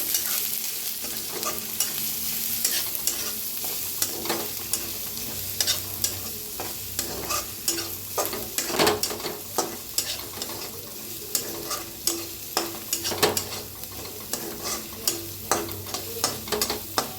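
Okra for garlic masala bhendi fries in a pan with a continuous near sizzle, while regular spoon scrapes and taps grow sharper and more frequent toward the end. No one speaks.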